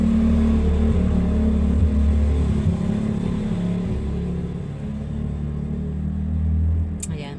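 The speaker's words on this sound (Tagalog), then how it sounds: "may dumaang motor" A motorcycle goes by on the road, its engine rumbling loud and close at first and then fading out over several seconds.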